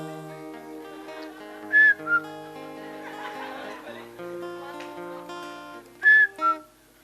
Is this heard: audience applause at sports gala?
no